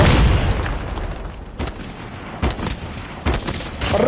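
Booming blasts and gunfire crack through a Call of Duty Mobile match, several sharp bursts spaced irregularly over a rumbling low background, with a grenade detonation among them.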